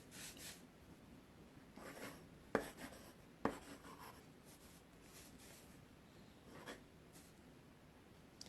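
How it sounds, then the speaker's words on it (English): A colored pencil scratches and rubs across paper in soft, quiet strokes, with a couple of sharper taps as the pencil meets the page, no talking. "I just take a colored pencil and come up with a weird shape and then try to turn it into something"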